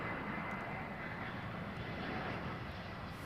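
An airliner descending on approach to runway 09L at London Heathrow, a steady, moderately distant engine roar with broadband rushing noise that holds evenly throughout with no voices.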